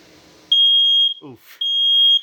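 Smoke detector in a Grand Design RV sounding during a test, a loud, piercing steady electronic tone in two long blasts, with a brief voice between them.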